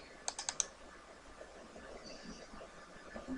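A computer mouse clicks several times in quick succession near the start, then the room goes quiet with faint background hum.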